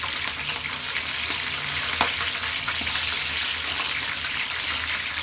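Green chilies and garlic sizzle steadily in hot oil in a pan for a chicken gongura pickle, with a dense, even crackle throughout and no speaking.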